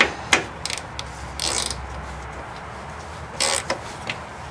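A ratchet wrench clicks in short bursts while loosening three 14mm strut mount bolts under the hood of a 2010-2013 Mazda 3, with separate knocks between the close, sharp runs.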